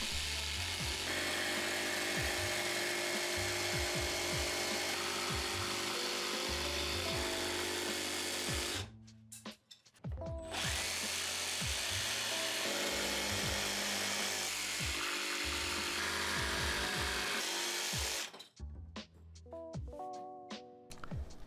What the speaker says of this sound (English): I used the jigsaw because I don't own a bandsaw, and a jigsaw worked pretty well to rough out the shape of a few of the larger charcuterie boards